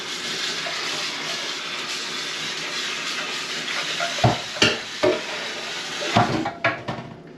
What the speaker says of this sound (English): just going to mix all this in